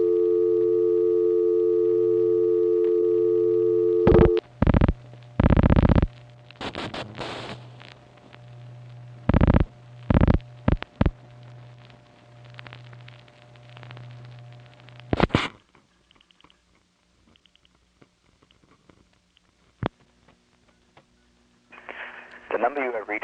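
Telephone calls to PBX lines on a 1970s network bring a steady dial tone, then bursts of touch-tone dialing, clicks and switching noise, followed by faint line hum and quiet recorded-message fragments.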